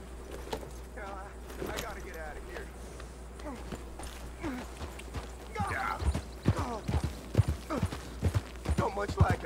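A horse's hooves clip-clop in the video game Red Dead Redemption 2, a steady walking rhythm that grows louder and closer toward the end, under speech.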